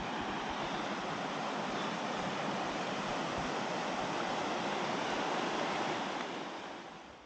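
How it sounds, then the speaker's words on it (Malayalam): A strongly flowing mountain stream rushes beside a tent on the Kashmir Great Lakes trek between Vishansar and Gadsar, a loud, steady, close roar of water that holds unbroken for about six seconds before easing slightly, with no voices. "ഈ ടെൻറ്റ് സ്ഥിതി ചെയ്യുന്നതിൻ്റെ അടുത്ത് തന്നെ വളരെ ശക്തിയാർജിച്ച് ഒഴുകുന്ന ഒരു അരുവിയും ഉണ്ടായിരുന്നു"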